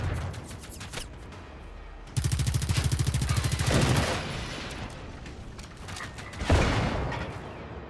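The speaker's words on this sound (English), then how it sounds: "Someone's shooting me." Rapid automatic gunfire in the Generation Zero video game, a sharp burst of evenly spaced shots after a few scattered single cracks, then a loud later blast fading out, moderately near.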